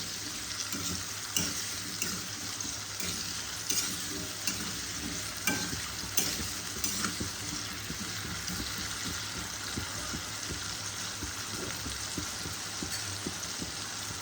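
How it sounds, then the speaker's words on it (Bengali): Potatoes frying in hot oil with turmeric and a little salt, a dense continuous sizzle with occasional stirring scrapes and clinks, close and steady, no talk. "আলুটা আমি এইভাবে ভেজে নেব।"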